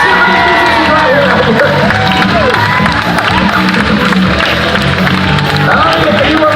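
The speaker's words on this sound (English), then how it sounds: "The crowd begins to cheer." A crowd at a South Florida Fair hypnotist show cheers and shouts loudly and continuously, with whoops and scattered voices over background music, close and dense throughout.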